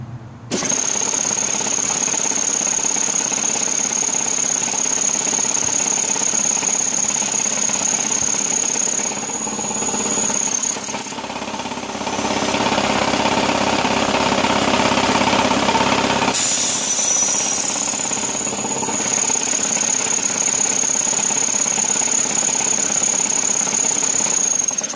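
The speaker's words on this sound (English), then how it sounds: "There is no air filter on that compressor, so she's a little noisy up there" A secondhand engine-driven air compressor with no air filter runs loud and close, a steady chugging drone with a high whine that dips briefly and then returns.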